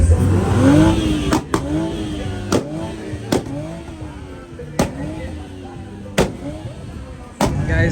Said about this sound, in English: Lo van a meter al burnout pit.